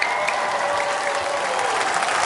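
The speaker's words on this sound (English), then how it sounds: "I'll raise it, and then I want you to clap and cheer." An audience at a children's church drama show claps and cheers in a dense, steady burst of applause, loud and close, filling the whole moment with no talk over it.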